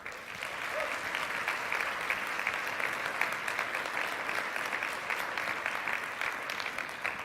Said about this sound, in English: So please, a round of applause for Dr. Carol McNamara.